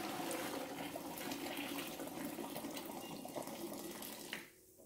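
Hot potato cooking water pours from a pot into a colander set in a kitchen sink, a steady close splashing gush that runs for several seconds, then cuts off abruptly near the end.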